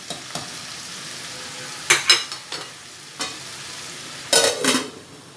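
Potatoes with cumin fry in a pan and get stirred, several sharp scraping bursts of a spoon against the pan over a faint low sizzle, close and uneven in rhythm.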